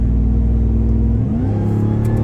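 A supercharged Ram TRX truck engine revs loudly up close, a deep steady rumble whose pitch rises and shifts midway as the supercharger whine builds.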